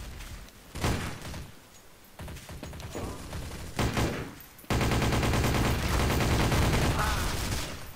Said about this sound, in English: Oh, this gun sucks, the TMP.